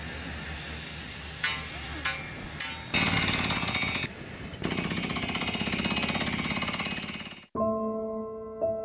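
A manganese steel drill bit bores at full speed into permafrost hard as cement, a loud pulsing rattle that starts in short bursts, grinds steadily for several seconds, then cuts off abruptly.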